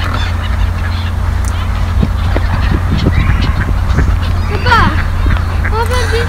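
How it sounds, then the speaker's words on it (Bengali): Ducks, geese and other waterfowl at the lake in Watermead Country Park, Leicester, honk and call loudly and repeatedly as children feed them, with voices in the background. "দেখেন বাচ্চারা খাবার দিচ্ছে, হাঁসগুলা খাচ্ছে"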